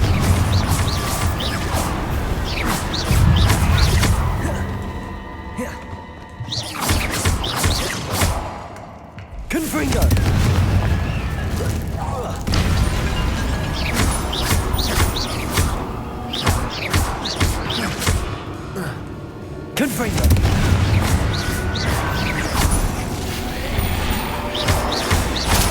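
Repeated Confringo fire-blast spell explosions in Hogwarts Legacy, loud booming bursts with whooshes and crashing debris amid swirling battle effects, recurring throughout a long stretch of combat.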